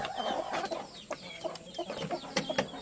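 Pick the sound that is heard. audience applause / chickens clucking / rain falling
chickens clucking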